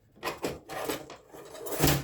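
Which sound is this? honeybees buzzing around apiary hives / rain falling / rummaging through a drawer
rummaging through a drawer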